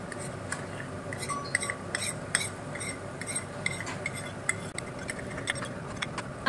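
Cashew paste and melon seed paste being stirred in a pan with oil, a spoon scraping and clinking against the metal in irregular light taps over a soft sizzle, close and moderately quiet, no talk.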